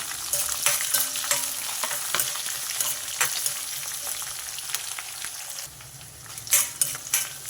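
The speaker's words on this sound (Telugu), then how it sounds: "తాలింపు అంతా కొంచెం వేగాలి" Tempering spices with onions and green chillies sizzle loudly in hot oil, a constant crackling hiss broken by intermittent clinks and scrapes of stirring against the pan.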